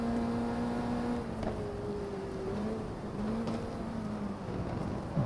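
A Lotus race car engine in the video game GT Legends, a fairly steady mid-pitched drone that rises and falls slightly with a couple of shifts, heard alone at moderate loudness.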